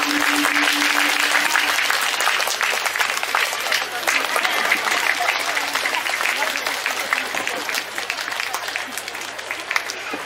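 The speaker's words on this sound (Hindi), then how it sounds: "हाँ ताली बजते रहो जितना ताली बजा" Congregation at a parish felicitation ceremony in a church claps continuously and densely, a loud even roll of hand claps throughout with a speaker's voice briefly heard over it at the start.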